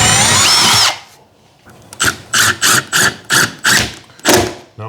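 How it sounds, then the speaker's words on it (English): A power drill bores through a scrap piece and a vinyl floor plank into the subfloor, coming in about seven short, evenly spaced bursts after a few seconds of sustained drilling and a brief quiet pause, close and loud. "Now I'm going to pre-drill through the scrap,"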